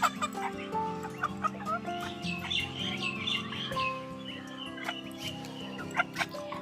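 Frightened chicken clucking and squawking after being caught and held, refusing food; close, repeated agitated clucks in uneven bursts over steady background noise, with no talking.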